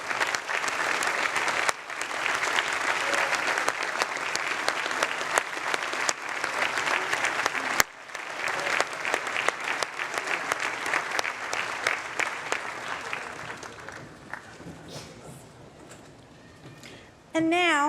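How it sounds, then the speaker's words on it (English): Large outdoor crowd at a Harvard University commencement ceremony applauds loudly and steadily, the clapping thinning and fading out before a voice begins speaking at the end. "let's give them a round of applause"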